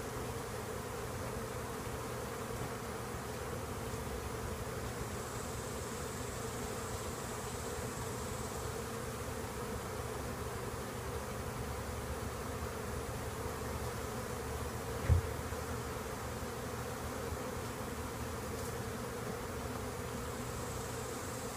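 Honey bees buzz steadily inside a hive box during a move from a 5 frame to a 10 frame setup, a dense continuous hum close by, with a single faint knock partway through.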